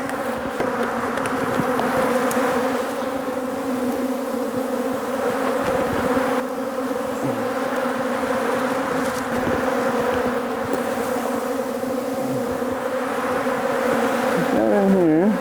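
A dense, loud swarm of honeybees drones continuously around a hive being moved during shake-outs and splits. The steady layered buzzing stays close throughout with slight shifts in pitch.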